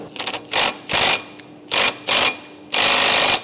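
An electric impact gun works on a stuck glow plug bolt on an OM606 engine in several sharp hammering bursts of varying length, separated by short gaps, close and loud.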